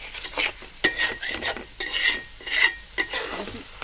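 Taro leaves are stirred in a pot with a metal spoon, giving repeated scraping and clinking strokes against the vessel over a soft sizzle, close and fairly loud, with no voices.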